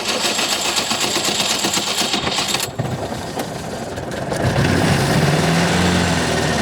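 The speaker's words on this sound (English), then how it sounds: "You just push your foot on the switch that is on the starter motor and hope it bloody turns on." A 1929 Austin 7 Chummy engine is turned over by its starter motor, giving a rhythmic mechanical churning that briefly drops out, then gives way to a rougher, louder low engine note building nearby.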